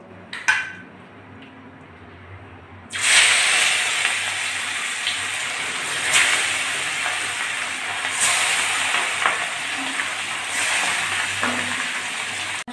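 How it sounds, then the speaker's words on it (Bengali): Fish fries in hot white oil in a wok. A loud hiss and sizzle bursts up at once after a quiet start, then carries on steadily with occasional clinks of a utensil against the pan. "এখন আমি মাছগুলো ভালো করে ভেজে নেবো"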